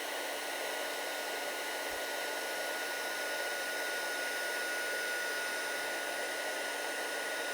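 Heat tool blowing hot air to melt embossing glaze, a constant loud whooshing fan hum running evenly with no pauses.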